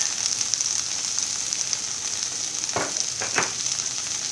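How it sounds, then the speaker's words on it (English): Okra (bhendi) seasoned with salt fries in a pan over a medium flame, giving a steady, soft sizzle with two brief clinks of stirring near the end. "this has to be done on a medium flame because we have to fry our bhendi very well"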